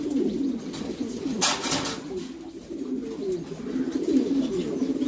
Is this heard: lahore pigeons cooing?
yes